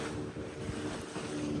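A boat moves on the open sea off Malvan, with loud, steady wind buffeting the microphone over a constant wash of waves and engine rumble.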